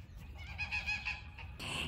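Geese in a backyard strawberry patch honk in a few short nasal calls, close and fairly faint, with a louder honk at the end.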